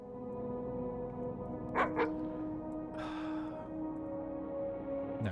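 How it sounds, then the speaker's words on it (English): Dog yips and a short whimper in Doom myhouse.wad, two quick bursts near the middle followed by a longer whine, set over a steady droning game ambience. "Puppy."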